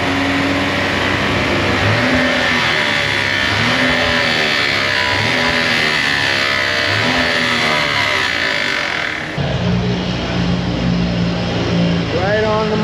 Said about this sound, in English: it sounds like the timing chain tensioner is bad, so it's not keeping tension on the chain inside.